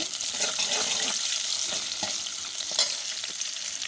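Chopped onion goes into hot oil over a strongly burning clay stove, giving a bright, steady sizzle with a few stirring scrapes and sputters, close by and with nobody talking.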